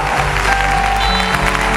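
Applause from a concert audience during a performance. It is steady and loud, filling the whole moment, with music faintly underneath.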